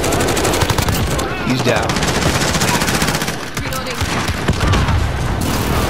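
A Grau 5.56 rifle with no attachments fires in Call of Duty Modern Warfare, loud sustained automatic bursts with a short pause midway, while someone talks over the shooting.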